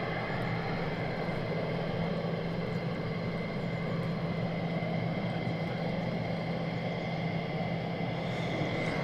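Steady, loud roar of F-35 fighter jets at RAF Lakenheath, a continuous, unbroken engine drone that holds the same level throughout, with no talk.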